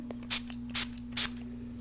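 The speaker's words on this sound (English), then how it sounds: "And I'm going to spray my hands." Three quick, evenly spaced spritzes from a spray bottle, close by, over a low steady hum.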